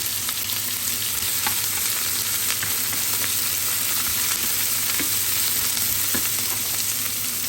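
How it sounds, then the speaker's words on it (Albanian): Onions frying in hot oil, a steady broadband sizzle and crackle that holds evenly throughout at close range, with no voices. "Edhe vaj është nxehur, bismillah, i hidhem qep."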